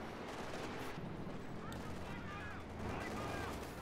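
Scattered gunfire and tank cannon fire from Panzer IV tanks in a Company of Heroes strategy game battle over fuel control, a dense, continuous rumble of distant shots and engine noise at steady loudness.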